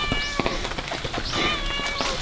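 A cat meows a few times on the humid stone stairs of Fushimi Inari Shrine in Kyoto, short rising calls over steady outdoor hiss and scuffing steps nearby.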